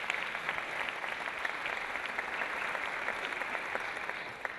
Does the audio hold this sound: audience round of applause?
yes